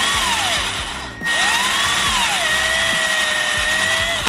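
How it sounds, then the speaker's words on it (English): A greased drill bit boring out an oil orifice in the engine case of a 2000 Honda XR50 motorbike; a loud, steady power-drill whine holds close up, with one short pause partway through. "That way when we start to drill out this hole,"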